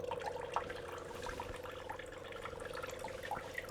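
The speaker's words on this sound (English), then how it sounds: "press and hold the dispensing button for 5 seconds. This will get rid of any water that's inside the filter tank." Water draining from a Simpure Y9 water filter dispenser's filter tank, a steady, faint trickling and gurgling stream with light dripping throughout.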